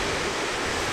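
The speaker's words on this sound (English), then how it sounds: "This is the Yellowstone River flowing this morning" The Yellowstone River near Gardiner, Montana, running high, gives a loud, steady broadband roar of rushing water, close and unbroken with no voices.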